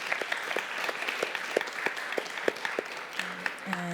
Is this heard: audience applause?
yes